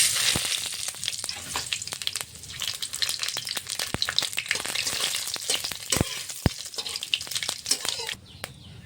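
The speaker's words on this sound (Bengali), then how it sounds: "কড়াইতে সর্ষের তেল দিয়ে দিয়েছি ফোড়নের জন্য ফোড়নে দেবো শুকনো লঙ্কা তেজপাতা গোটা জিরে" Dry red chillies, bay leaf and whole cumin temper in hot mustard oil in a kadai. The close, steady sizzle is dotted with sharp pops and crackles and fades near the end.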